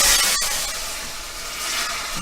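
Steam hisses softly and continuously from a covered pan of mussels cooking on the stove, with a brief sharp click near the start.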